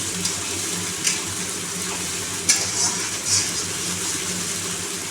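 Ghetkol leaf paste stirred as it fries in oil, a steady close sizzle with faint scraping strokes of a spoon and a few sharper clinks, no talking.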